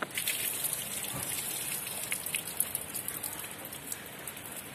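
Heavy rain pours down in Chennai, a steady dense hiss of drops drumming on surfaces with occasional splashes, continuous and fairly close with no voices.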